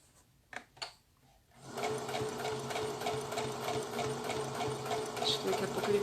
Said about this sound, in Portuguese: A Alexandre nunca viu eu costurar tanto.